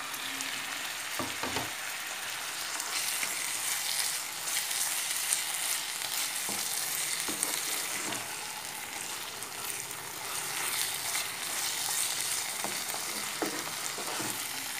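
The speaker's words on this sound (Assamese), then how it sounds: "এনেকৈ একদম কম ফ্লেমত অকণমান ভাজি ল'ব লাগিব।" A ginger-garlic, cumin and coriander paste fries on a low flame for a jackfruit curry, giving a soft, continuous sizzle with a few spatula scrapes and stirring knocks throughout.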